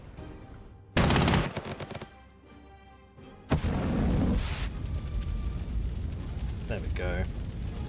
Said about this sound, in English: Artillery bombardment.